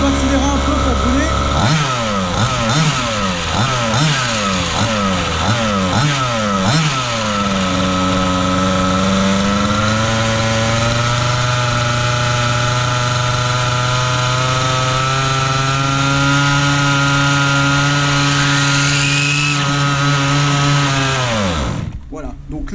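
The nitro engine of a 1/5 scale RC buggy revs up and down in repeated loud, close bursts, then settles into a steady high idle before cutting out at the end.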